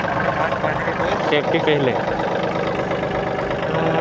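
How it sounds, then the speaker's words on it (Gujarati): A tractor engine runs steadily while powering a pesticide sprayer on a pomegranate farm, a loud, close, even drone with someone speaking briefly over it. "જો ટ્રેક્ટર ઉપર આપણે દવા ચાલુ કરી દઈએ."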